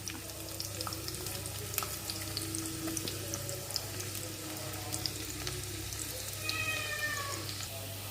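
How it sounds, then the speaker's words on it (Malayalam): Onions sizzling steadily in hot oil in a home kitchen pan, a continuous close frying hiss with faint clinks, while making a Kerala-style drumstick leaf, plantain and dal curry. "എണ്ണ ചൂടായി ഉള്ളി ചേർത്ത് കൊടുക്കുക"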